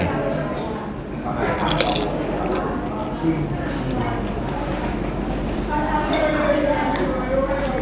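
Someone bites into and chews a whole Indian stuffed puri filled with sauce at an Indian restaurant, making close, wet, squishy crunching sounds while a voice talks over them.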